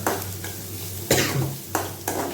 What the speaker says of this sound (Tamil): ஸோ வெங்காயம் வந்து நல்லா வதங்கட்டும்.